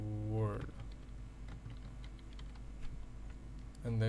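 HTML code being typed on a computer keyboard, a quiet run of soft rapid key clicks in an irregular rhythm, with brief speech at the start and end.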